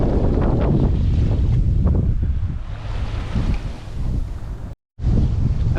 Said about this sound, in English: We're running into about a 3-foot swell with 1-foot wind waves on top